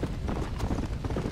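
Hooves of the War horse pound steadily in Red Dead Redemption: Undead Nightmare, a continuous rapid clip-clop of galloping under a dense game soundscape, fairly loud and close.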